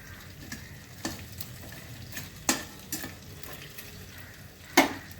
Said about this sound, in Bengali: আর মাছ ভাজতে গেলে ভীষণ ফাটে, ওই জন্য আমি ঢাকা দিয়ে করি।